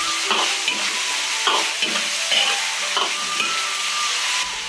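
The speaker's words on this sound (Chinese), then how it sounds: "快速将汤汁收干" Braised pork rib sauce reducing fast in a wok over high heat, a loud bubbling sizzle broken by repeated rhythmic scraping strokes of a spatula across the metal.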